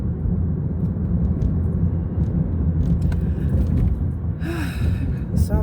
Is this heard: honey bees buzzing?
no